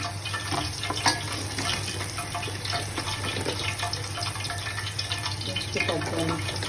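Okra fries in a pan with a steady close sizzle and crackle, broken by bits of stirring and scraping, and nobody talks.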